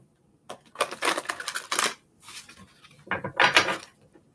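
Tarot cards shuffled by hand in two quick bursts, crisp riffling and slapping of the deck with a brief pause between, close and clear.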